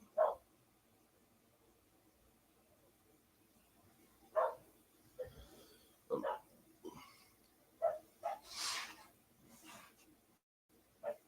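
Dogs playing outdoors give a scattered series of short barks and yips, fairly distant and soft, separated by quiet gaps.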